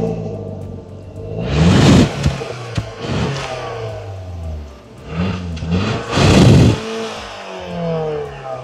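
A 2001-2005 Skoda Octavia vRS engine with the bonnet open is revved in several sharp bursts, each rising to a loud roar and dropping back to a rumbling idle.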